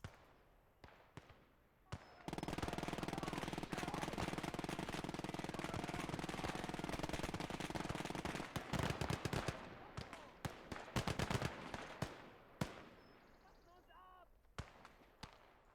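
A machine gun fires in a WWII real-time strategy game: a loud, sustained rapid burst lasting several seconds, then scattered shots and impacts trailing off, with a voice speaking over it.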